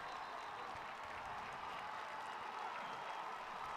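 A crowd in the stands at a high school football game applauds after an interception, a steady, distant wash of clapping and cheering that stays constant and fairly faint.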